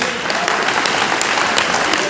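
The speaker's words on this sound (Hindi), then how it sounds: "तो एक के लिए जोरदार ताली होनी चाहिए" A crowd at a business leadership event gives a leader loud, dense, steady applause that fills the whole moment with no talk over it.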